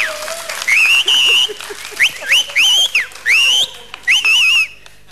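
A whistle gives a string of shrill, sliding toots in short bursts, some rising and some wavering, loud and close, with a faint voice underneath at the start.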